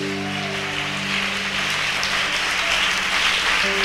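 A church congregation claps in a steady, dense burst that swells slightly toward the end, heard over a sustained low musical drone with no speech.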